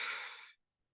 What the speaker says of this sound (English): And then we're going to exhale in 1 complete exhalation.